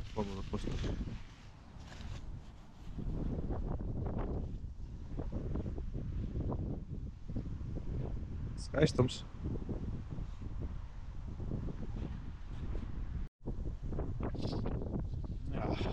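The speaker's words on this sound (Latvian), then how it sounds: "iegriezās vējš" Wind buffets the microphone in a steady rough roar for the whole stretch, outdoors while autumn feeder fishing for bream, with a brief spoken word partway through.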